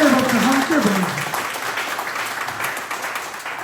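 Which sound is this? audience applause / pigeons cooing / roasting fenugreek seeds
audience applause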